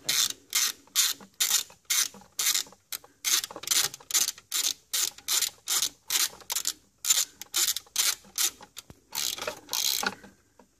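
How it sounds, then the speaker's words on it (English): Rapid clicking of a 3/8 inch ratchet tightening the transmission fill plug on a 2013 Honda Accord six-speed manual, in a steady run of about twenty sharp, close bursts with brief gaps. "Use your 3/8 inch ratchet again."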